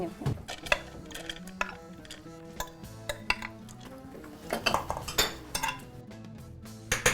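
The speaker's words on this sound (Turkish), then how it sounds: "Tekrar tencere koyalım" Metal cookware clanks and clinks as a cooking pot is set back down, with scattered rattling kitchen clatter throughout.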